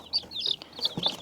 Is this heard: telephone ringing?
no